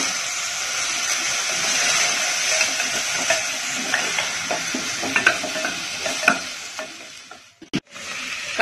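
Bottle gourd curry with dal and chili powder being stirred in a pan, a constant hiss of sizzling with scraping strokes of a spoon that grow sharper toward the end.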